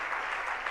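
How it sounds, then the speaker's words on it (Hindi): Brief burst of audience applause at a Jain religious gathering, a short, steady wash of clapping from a crowd at moderate level. "तालियां जोरदार। और तालियां"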